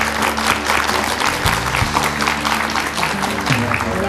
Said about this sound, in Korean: 힘찬 박수로 맞아주시죠.